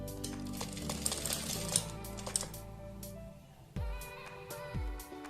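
A sewing machine stitches a strip over the pleats of a puff sleeve for a blouse, whirring in short runs with a pause and mechanical clunks as the fabric shifts, quiet and close without talk.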